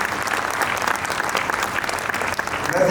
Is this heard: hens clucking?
no